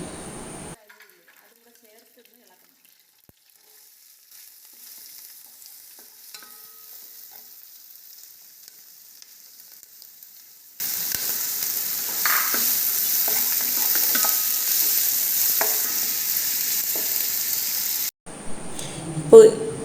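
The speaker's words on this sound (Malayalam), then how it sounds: "ഇപ്പോൾ ഇതിലേക്ക് അരിഞ്ഞു വച്ചിരിക്കുന്ന പച്ചമുളകും ഉള്ളിയും ചേർത്ത് നന്നായിട്ട് വഴറ്റുക." Chopped green chillies and onions sautéing in a pan for chicken curry: after a long quiet stretch with faint talking, a loud, steady frying sizzle with stirring starts abruptly, then cuts off near the end.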